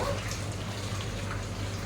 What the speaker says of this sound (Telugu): వాటర్ అనేది ఫుల్గా వేసేస్తున్నాము హాట్ వాటర్